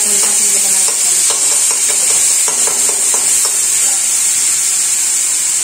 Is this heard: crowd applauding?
no